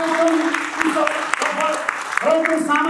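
An audience at a formal Nepali programme claps in scattered, sharp bursts while a voice speaks prominently over the applause.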